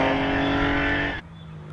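A left-hand-drive Porsche 911 hillclimb race car roars loudly past at close range with a steady high engine note, then drops abruptly to a faint low rumble as it moves away.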